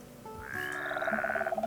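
Frogs croak in Minecraft as a quick, rhythmic run of pulsed calls, fairly close and steady, over sustained tonal game sounds.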